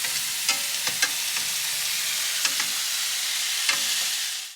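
Steak frying in a pan, a steady, loud hiss of sizzling fat with occasional sharp pops and crackles throughout, no voices.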